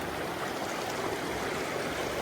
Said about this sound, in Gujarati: પાણી પણ બહુ અનહદ જાય